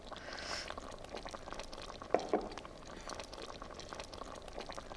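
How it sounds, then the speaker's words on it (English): Soft, steady bubbling of coq au vin with chicken, bacon and wine sauce simmering in a pot, a low continuous gurgle with a couple of brief louder pops, no talking. "the Coq Au Vin is just bubbling away"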